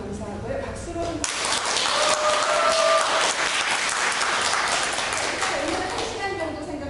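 An audience at an invited academic lecture applauds a guest speaker, steady dense clapping that starts abruptly after a brief moment of speech and fills the room for several seconds, tapering slightly toward the end.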